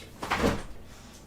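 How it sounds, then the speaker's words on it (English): An office door opens with a short creak and soft knock of wood, a single close movement lasting under a second, with no talk. "I had to open the office door"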